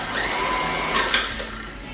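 An electric mixer whirs steadily through cream cheese frosting with cinnamon for carrot cake, a close continuous motor drone with slight rises in pitch and no talking.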